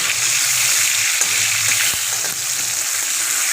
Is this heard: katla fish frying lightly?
yes